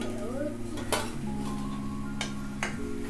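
Black gram vadas are lifted from frying oil onto a plate, with a few sharp metallic clinks of utensil on pan over a faint continuous sizzle.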